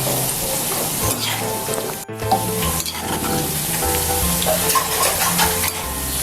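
Mixed vegetable pakoras fry in hot oil with a loud, dense, continuous sizzle, broken briefly by a stir or turn before the crackling resumes.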